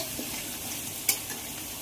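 Potatoes fry in oil with black cumin in a pan, a constant close sizzle with one sharp scrape of stirring partway through.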